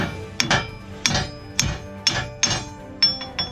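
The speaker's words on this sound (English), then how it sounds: "And we got to get our big hammer. We're going to knock this thing loose a little bit." A heavy hammer strikes a 2004 Chevrolet Tahoe's torsion key about seven times in an uneven rhythm, each blow a sharp, ringing metal clank heard up close.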